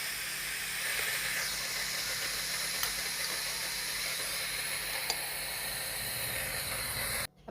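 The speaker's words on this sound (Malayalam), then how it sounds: "ഇനി നമുക്കിത് കുക്കറിലേക്ക് വെച്ച് കൊടുത്തിട്ട് വേവിച്ചെടുക്കാം" Steady hiss of steam escaping a pressure cooker while carrot oats puttu steams inside, a continuous broadband rush for several seconds with a couple of faint clicks, cutting off abruptly at the end.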